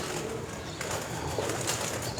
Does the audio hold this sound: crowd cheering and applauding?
no